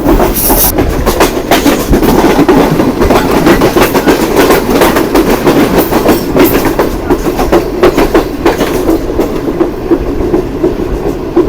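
A Green Line passenger train runs on the rails near the Horseshoe curve in green red-clay hill country, with steady clickety-clack of wheels over rail joints and loud, continuous rolling rumble and no talking.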